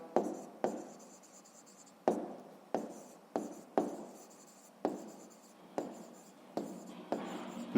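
A pen scratches out numbers on paper during a fifth-grade maths exercise, a series of short, close strokes in an irregular rhythm with brief pauses between them, quiet and alone.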